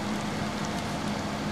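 Steady rain pours down outdoors, a dense, even hiss of drops on surfaces that holds at a constant level throughout with no voices.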